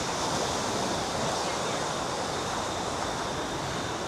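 Ocean waves washing onto a beach in Sosúa, Dominican Republic, a continuous broadband roar of surf with wind rushing over the microphone, steady and fairly loud throughout, with no clear voices.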